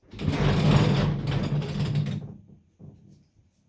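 A vintage Etro Vetiver perfume atomizer gives one long, close hissing spray of about two seconds, then a short, softer second puff.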